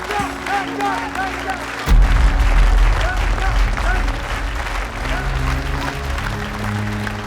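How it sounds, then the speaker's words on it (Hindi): A village crowd bursts into loud, sustained applause after a village headman announces a prize, with a music bed running underneath and the clapping swelling suddenly, then continuing dense and even to the end. "तालियां!"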